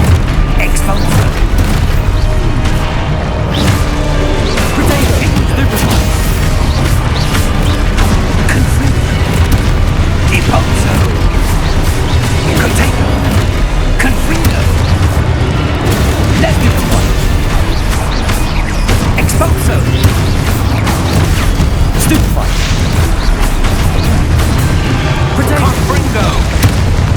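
Booming spell blasts and crashing impacts in the video game Hogwarts Legacy, dense and loud throughout with layered explosions over a constant game soundtrack, voices shouting spell names between bursts.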